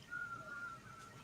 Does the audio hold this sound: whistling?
yes